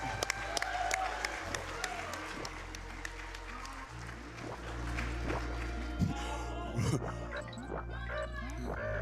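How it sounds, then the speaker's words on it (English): An audience at a live speedrun event applauds, with steady clapping mixed in with crowd noise and game sounds throughout. "I want to get an applause in here."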